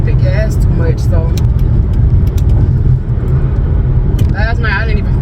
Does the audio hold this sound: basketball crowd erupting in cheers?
no